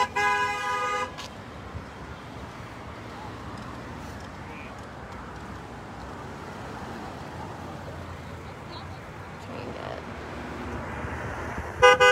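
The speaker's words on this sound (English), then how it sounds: "Now that honking is pretty normal." Cars honk their horns in support of a street protest in west Toledo, with short harmonic toots at the start and end over a continuous bed of passing traffic noise.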